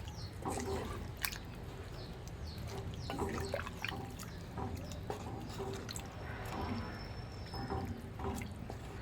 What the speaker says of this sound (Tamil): ஒரு சொம்பு தண்ணி ஊற்றிக்கலாம்.